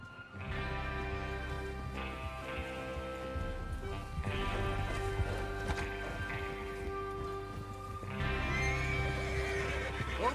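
A horse in Red Dead Redemption 2 whinnies, with hooves clopping, over a sustained tonal musical backdrop that shifts in sections.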